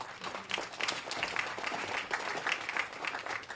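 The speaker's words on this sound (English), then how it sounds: "you all should give yourselves a round of applause for being in this space" An audience at a plenary conference session breaks into a round of applause, many hands clapping in a busy, uneven patter with individual claps standing out, fairly quiet and distant, sustained throughout.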